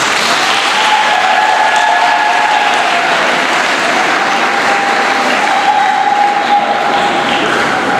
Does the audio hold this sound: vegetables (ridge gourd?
no